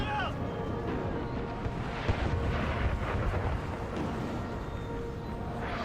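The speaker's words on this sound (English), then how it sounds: "they were hit by the sudden artillery" 12-pounder howitzer artillery fire in an American Civil War video game comes as distant rolling thunder-like rumbles and muffled booms over a continuous low roar of battle.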